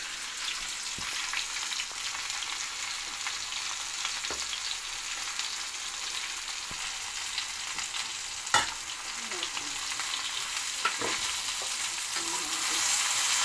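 Banana curry sizzles in a pan while a spoon stirs it, a continuous bright frying hiss with occasional soft scraping knocks against the pan, fairly quiet and close, with no voices.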